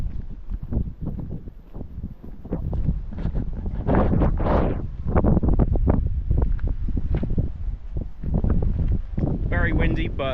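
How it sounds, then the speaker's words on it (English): Steady wind buffeting the microphone on an open hiking footpath, rumbling and gusting throughout, with occasional other noises mixed in. "Very windy"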